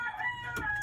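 A rooster crows close at hand in a short, strained call, with some clucking from other chickens in the background.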